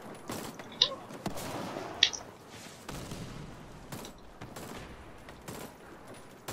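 Gunfire in the Warface online shooter game, two sharp loud shots standing out over a busy game soundscape of bursts and mechanical clatter.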